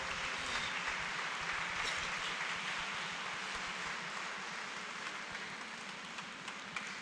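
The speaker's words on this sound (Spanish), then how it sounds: "Vamos dándole un fuerte aplauso" Congregation applauding at the close of a Sunday Mass in Tamazula, Jalisco, a steady wash of clapping at moderate distance that continues evenly for the whole stretch with no voices on top.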